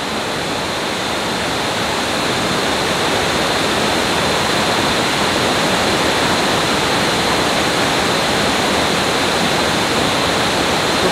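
Steady, loud roar of Mag Aso Falls pouring into its pool, a dense broadband wash of falling water heard close up and unbroken throughout, with no voices.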